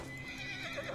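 A horse whinnies in the Assassin's Creed Origins video game as it burns, one short high neigh with a wavering pitch, loud and clear against faint game background sound.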